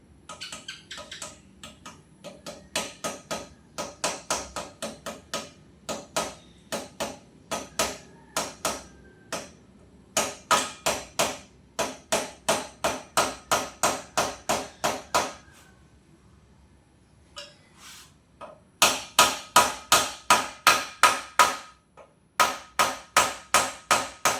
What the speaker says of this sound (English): using a soft hammer.